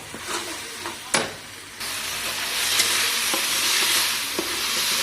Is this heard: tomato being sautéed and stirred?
yes